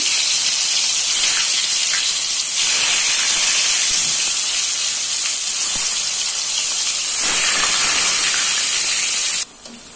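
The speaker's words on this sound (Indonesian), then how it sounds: "Dan di sini untuk tempenya saya goreng." Tempeh frying in hot oil gives a loud, constant hissing sizzle, up close, with small surges and crackles, cutting off abruptly near the end.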